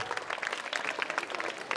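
A crowd claps steadily and fairly loudly at a Navodaya Vidyalaya alumni meet in Mandsaur, a dense continuous round of applause with no pauses.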